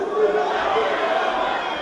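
Fight crowd at a Gold Fight event roars in support of a fighter getting back to his feet, a dense sustained wall of cheering voices with a commentator talking over it.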